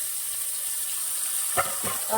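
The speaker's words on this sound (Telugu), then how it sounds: "సిమ్లో పెట్టేసి సిమ్లో పెట్టేసండి చక్కగా ఫ్రై అయ్యే వరకు" Bitter gourd frying in a pan of tempering oil on a low flame: a steady, close sizzling hiss, with a couple of louder crackling bursts near the end and no speech.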